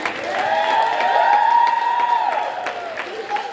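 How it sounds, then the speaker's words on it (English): An audience at an arts fundraiser auction cheers with a sustained, high, wavering whoop over a steady crowd roar for several seconds. "All right, we gotta cheer for that!"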